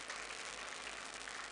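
An audience applauds at a trade fair opening ceremony, a faint, distant wash of steady clapping that holds evenly through the short stretch with no voices over it.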